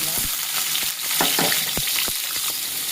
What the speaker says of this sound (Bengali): এখন আমি আলুগুলো ভেজে নেব।